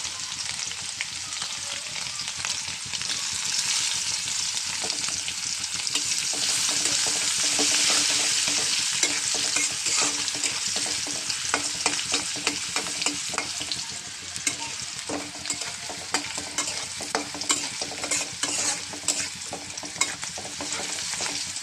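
Chopped onion frying in hot oil and stirred for a winter duck curry, a steady close sizzle with repeated scraping stirs throughout, loudest mid-way and continuing without pauses.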